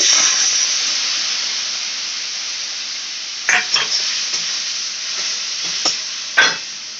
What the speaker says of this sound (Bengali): টমেটোটা ভালো করে ভেজে নিচ্ছে তারপরে এই মশলাটা দিয়ে দিল